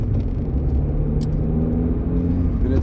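A steady, deep exhaust rumble from a Suzuki Swift Sport ZC33S with an HKS Hi-Power Spec-L II titanium exhaust with two silencers, middle and rear, drones close by at idle, smooth and even throughout without revving.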